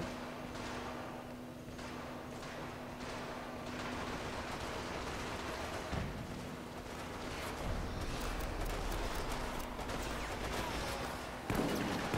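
Shotgun fire in the video game Resident Evil: Operation Raccoon City, heard as several dull blasts over a dense, rain-like wash of noise that continues throughout.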